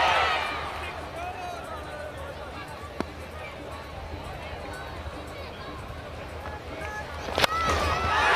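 A crowd at a Nepal versus Hong Kong cricket match, a low murmur of babble with a commentator talking over it, a sharp knock near three seconds and a louder clatter and swell near the end.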